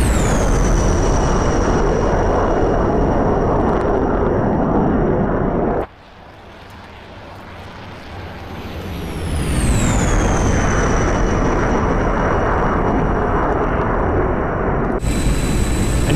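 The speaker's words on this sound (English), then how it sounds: "Although it was too quiet, that did sound just like a real afterburner." Roaring jet afterburner of a MiG-21bis in the DCS flight simulator, loud and steady broadband thrust with a whining tone, cutting to a quieter muffled rumble that swells back, then an abrupt pitch shift near the end.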